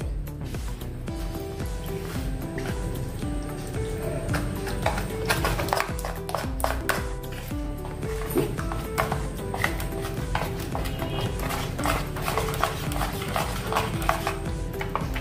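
Steady scraping and clinking of a spoon stirring thick semolina batter with yogurt and water in a bowl, continuous and close, with no talking.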